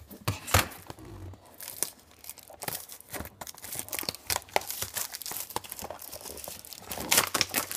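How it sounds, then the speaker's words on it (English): Foil wrappers of 2016 Bowman's Best baseball card packs being torn and crinkled open from a mini box, a close, steady run of crackling and tearing with no talking. "let's go ahead and open the second mini box"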